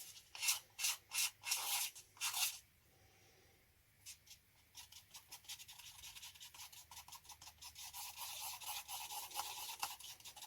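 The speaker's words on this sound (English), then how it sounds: "Scrape down the sides." A stick scrapes and rubs around the sides of a cup of mixed jesmonite in a series of quick, soft strokes. A brief pause is followed by steadier, faint scraping that continues to the end.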